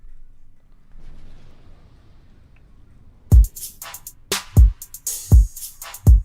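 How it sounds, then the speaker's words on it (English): A burst of explosion sound effects, several sharp booms going off in quick succession after a few seconds of quiet low rumble. "A lot of explosions on the show tonight."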